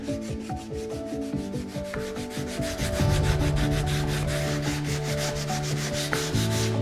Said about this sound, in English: I will take a piece of sandpaper. Usually I use like a really fine sandpaper, 220 grit